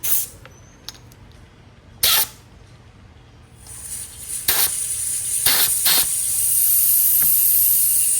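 A deflator on a motorcycle tire valve lets air out in several sharp, loud hissing bursts, then settles into a long continuous hiss. It happens during old-school tire mounting, with no talk over it.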